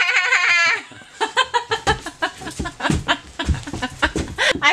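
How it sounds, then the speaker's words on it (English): A house cat gives a drawn-out, goat-like meow up close, followed by a run of short rhythmic calls and bleats that continue to the end. "I forgot it's a cat, not a goat."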